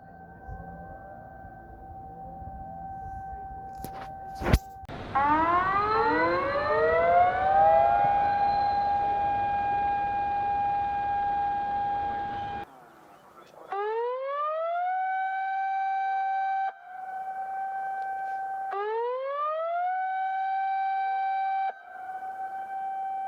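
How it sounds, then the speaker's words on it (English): Tsunami warning sirens, three different wails in succession: a brief sharp burst, then a long rising siren that holds steady, then two shorter rising tones that level off, loud and alone. "tsunami sirens, 3 actually."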